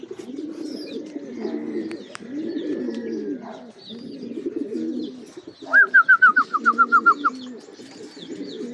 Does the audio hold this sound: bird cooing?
yes